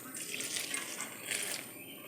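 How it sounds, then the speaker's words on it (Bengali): Water is poured into a pot holding a feed mixture that will be boiled for chickens. It makes a continuous hissing splash at moderate, fairly steady loudness, in two slightly stronger surges. "মোটামুটি সিদ্ধ হওয়ার মধ্যে পানিটা দিতে হবে।"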